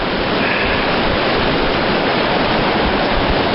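A brook flows through Cascade Canyon in the Tetons, producing a steady, close, full rush of running water without pauses or voices.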